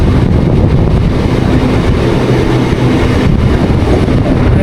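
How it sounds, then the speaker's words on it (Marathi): A passenger train running on the line near the new Karjat station on the Panvel–Karjat route, heard as a steady, loud rumble of wheels and rails that carries on without a break and with no talking. "त्या साईडने ना वरतून जाते ती ट्रेन"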